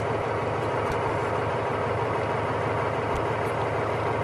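A truck engine idles steadily while its air compressor builds brake air pressure, giving a constant low rumble and hum throughout with no talking.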